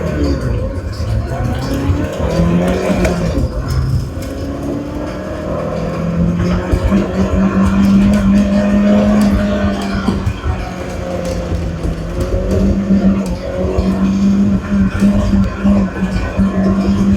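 A Toyota MR2 spec coupe race car is driven hard on a wet track. The engine drones loud and close, its pitch climbing and dropping through gear changes in a continuous roar.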